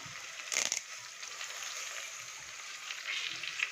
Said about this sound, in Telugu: కరివేపాకు వేస్తున్నానండి